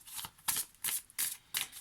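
A deck of oracle cards being shuffled and handled, five quick papery riffling bursts in a steady rhythm, close and soft with no other sound.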